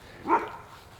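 A single short dog bark, somewhat distant, against a quiet background.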